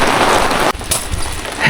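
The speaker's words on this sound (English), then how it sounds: "the sun's out, but it's still raining" Rain falls heavily during a river float, a dense, loud hiss that fills the air, dips for a moment, then continues close by.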